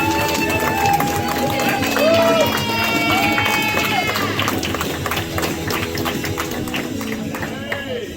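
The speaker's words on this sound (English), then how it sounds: "clapping again." Audience applause at a Laughing Stock improv comedy show, a dense continuous patter of clapping mixed with crowd murmur and a few voices, steady and fairly loud throughout before fading slightly at the end.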